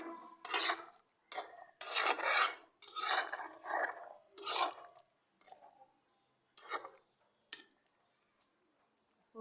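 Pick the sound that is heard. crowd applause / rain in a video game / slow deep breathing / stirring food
stirring food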